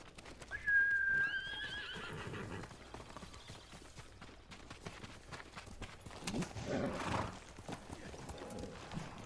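A horse in a video game gives one clear whinny near the start, followed by hooves clip-clopping steadily and rustling game noise, with faint talk.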